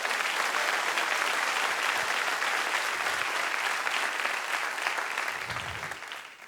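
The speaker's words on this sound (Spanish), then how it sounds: "Dale un aplauso al Señor" A church congregation applauds the Lord together during a Spanish-language service, a steady, dense wash of clapping that holds loud and even for several seconds before tapering slightly at the end.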